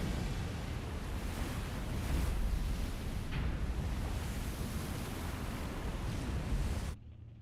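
Steady wind and surging sea waves in Silent Hunter 4 with the FOTRSU mod, a broad continuous roar that stays loud for about seven seconds before cutting off abruptly.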